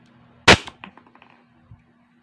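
A single sharp shot from a silver WE T-Rex Hi Capa airsoft pistol, a loud crack followed by faint mechanical clicks and a soft tap as the slide settles.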